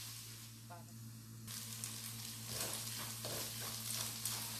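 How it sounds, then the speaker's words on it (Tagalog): Ground lamb browning in a pan hisses with a steady sizzle that swells after a moment, faint and close under a low constant hum. "Hayaan lang po natin mag brown po yung lamb natin"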